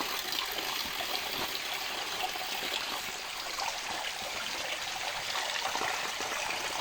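Steady broadband rush of spring water flowing from a mountain source, a continuous close trickle and gush that holds evenly throughout with no voices over it.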